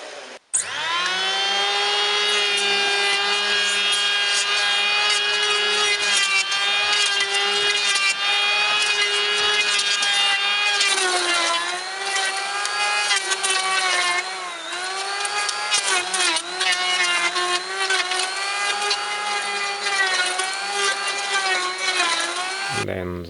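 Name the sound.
planing and sanding wood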